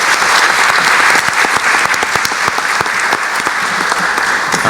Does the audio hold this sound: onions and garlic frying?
no